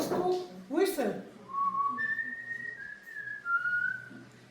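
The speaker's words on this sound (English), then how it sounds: "Every time the children had to return home, one of the parents used to whistle." A family's special communication whistle, used by a parent to call the children home, sounds as a few clear, sustained human-whistled tones after brief voices at the start, close and moderately loud.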